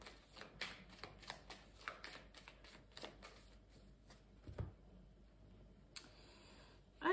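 Tarot cards shuffled for a reading: close, crisp riffling bursts in quick clusters, pausing briefly before a final sharp flurry, with no talking.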